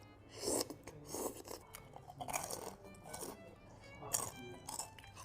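Crunchy tofu-coated chicken skin is bitten and chewed close up in a quiet room, giving a series of crisp crunches in uneven bursts alongside a topokki meal.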